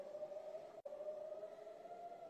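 Air raid siren sounding in Israel during a Hamas rocket attack, a faint, distant steady wail that holds one pitch throughout with a brief dropout near the start, heard alone without talk.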